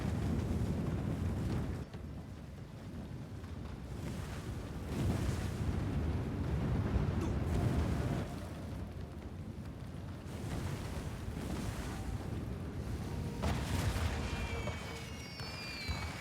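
Explosions and roaring fire tear through a fireworks factory in the samurai video game Trek to Yomi. Heavy booms and bursts come in repeated loud waves over a constant fiery rumble, with crackles and occasional high whistling near the end and no talking.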